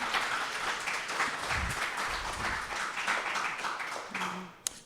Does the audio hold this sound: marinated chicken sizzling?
no